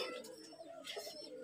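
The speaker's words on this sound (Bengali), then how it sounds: "তো কবুতরগুলোকে আমি এখানে গোসল করতে দিলাম" Pigeons cooing softly while bathing, a few low, rolling coos close by at a faint level with slight water and chirp sounds between them.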